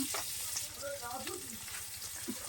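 Whole onions drop into a hot frying pan where shrimp is being cooked, and a steady close sizzle rises as they land.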